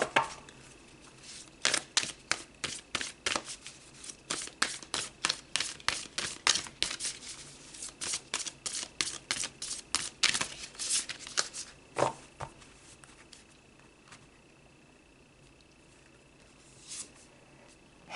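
Tarot cards are shuffled and pulled by hand, a dense run of close, crisp riffling clicks that thins out into a few scattered snaps and soft slides.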